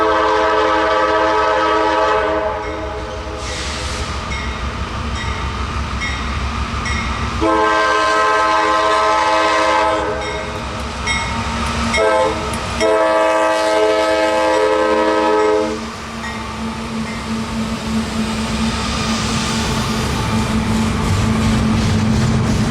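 A freight train rumbles past at a road crossing and sounds its horn in several long, loud blasts with short gaps between them, over a steady roll of wagons.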